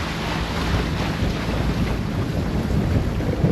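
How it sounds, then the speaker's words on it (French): Strong wind blowing outdoors on a mostly fine, partly cloudy day near water, a steady, loud broadband rush buffeting the microphone throughout, with no voices. "il y a du vent comme il faut"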